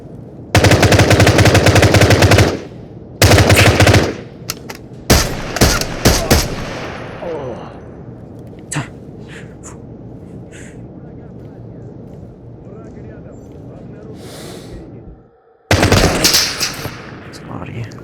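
Enemy automatic gunfire in the video game Into The Radius comes in several loud bursts with quieter stretches between them, and a voice talks in the gaps.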